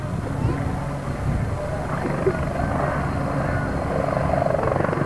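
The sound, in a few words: helicopter flying aerobatics at an air show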